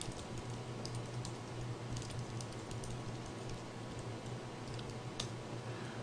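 Steady typing on a computer keyboard while a program is written, soft rapid key clicks running continuously and faintly against a quiet room hum.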